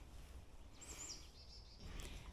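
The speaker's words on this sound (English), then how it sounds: "I hear birds." Faint birds chirp in the distance, a few thin high calls over a quiet, low outdoor hum.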